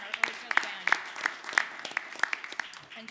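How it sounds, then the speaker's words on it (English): Sparse, rhythmic handclaps ring out from the audience at a city council meeting, honouring the OHS band and music producers. The claps are fairly faint and come in quick, separate bursts over a murmur of voices. "let's just give another round of applause for our music producers and our OHS band"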